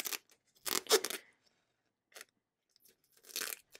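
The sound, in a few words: tape being peeled off a diamond painting package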